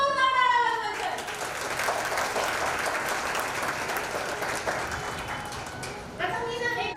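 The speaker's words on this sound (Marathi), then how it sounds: "तुम्हा सर्वांसाठी जोरदार टाळ्या वाजवायच्या आहेत" An audience at a Ladshakhiya Vani Samaj women's association event in Chalisgaon claps in a dense burst of applause lasting several seconds, with someone speaking just before and after it.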